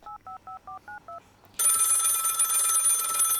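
A phone speed-dialing a pastor: six quick beeping tones in a rhythmic row, a brief pause, then a loud continuous telephone ringing that fills the rest of the clip.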